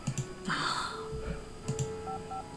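Mobile phone keypad tones in the horror game Darkness Within as a call to Arthur is dialed: short separate button beeps, then a repeating ringing tone pulses toward the end.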